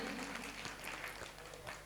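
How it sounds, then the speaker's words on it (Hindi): Applause from a mushaira audience fills the space without a break, a dense, steady wash of many hands clapping at once under a faint low hum. "एक मरतबा ज़ोरदार तालियां बजाकर मुझे इजाज़त दे दें।"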